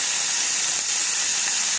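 Onions sizzling in hot oil in a pan for a bitter gourd kuzhambu, with urad dal already fried in, giving a steady, close, even hiss with no break and no talk.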